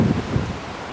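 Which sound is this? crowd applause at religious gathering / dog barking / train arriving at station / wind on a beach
wind on a beach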